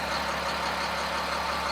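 A 2007 Sterling L7500 garbage truck with a 7.2 liter diesel engine idles steadily, a low, even rumble with a constant hiss over it.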